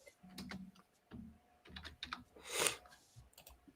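Fingers tap a computer keyboard in short bursts of clicks and keystrokes, close and fairly quiet, with a louder clatter near the end and brief pauses between runs of typing.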